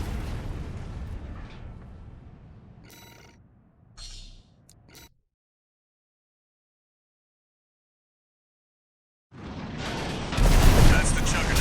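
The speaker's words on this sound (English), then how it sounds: "That's the Juggernaut, heavy mobile cannon." A Juggernaut heavy mobile cannon in Armored Core VI fires booming, explosive blasts amid loud combat noise, with voices talking over it, then a sudden cut to silence before heavy rumbling returns.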